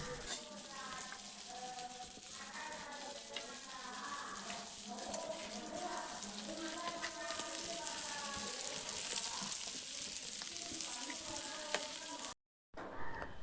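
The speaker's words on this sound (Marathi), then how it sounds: "सर्व मासे रव्यात मिक्स करून आम्ही तेलात सोडलेत." Semolina-coated bangda mackerel frying in oil on a hot tawa over a wood-fired chulha, a steady loud sizzle running throughout before a brief cut near the end.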